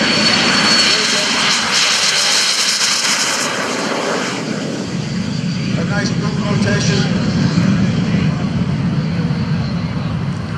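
An L-39 Albatross turbofan jet trainer flying at an air show, its engine a loud, steady roar and whine filling the whole stretch while an announcer talks over a public address system.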